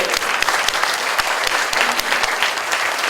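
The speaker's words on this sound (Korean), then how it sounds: "보통 이 정도 되면 박수를 한번 쳐줄 것도 한데" Audience at a redevelopment briefing applauding, steady dense clapping from a sizable crowd, loud and sustained throughout without talk.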